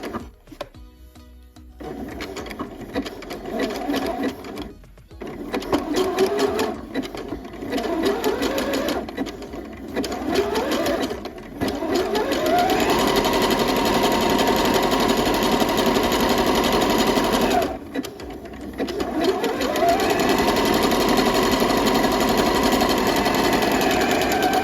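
A sewing machine zigzag-stitches sleeve bands for a top in bursts, its rapid mechanical whir starting and stopping with short pauses before settling into a long continuous run.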